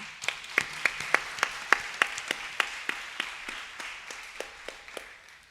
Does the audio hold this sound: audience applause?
yes